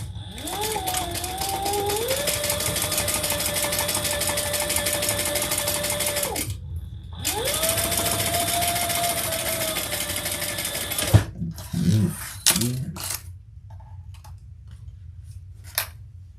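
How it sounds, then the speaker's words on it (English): A sewing machine top-stitches a tote bag in one long, loud run with a brief pause partway through, followed by a few snips and handling clicks as the machine falls quiet. "Then we'll turn that and top stitch that."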